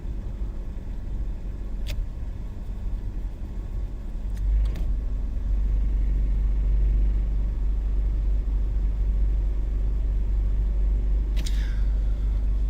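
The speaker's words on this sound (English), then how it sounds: "So I'm driving my little truck. I have a little red Toyota Tacoma." Red Toyota Tacoma pickup truck driving gives a steady low road rumble that swells after a few seconds, with faint rattles and clicks from the cab.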